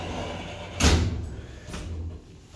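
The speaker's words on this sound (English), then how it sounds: "Doors closing." Lift doors sliding shut on a 2003 Independent lift, modernised in 2014, in a car park: a sudden loud thud near the start, then a softer second knock with low rumble, all over steady machine hum.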